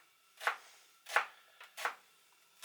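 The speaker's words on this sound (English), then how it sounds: "So remember those 2 shallots I kept by? I want to shred those quite finely now." A kitchen knife finely shreds shallots on a board, giving four or five crisp, separate chops at an uneven, unhurried rhythm, close and fairly quiet.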